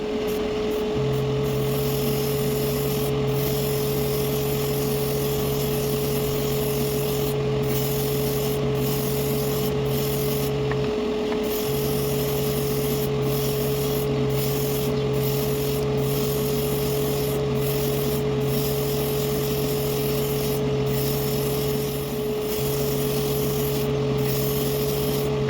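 Airbrush spraying grey primer onto model car body pieces for a Liberty Walk Toyota 86 scale model, a continuous hiss over a steady compressor hum, with brief pauses and restarts.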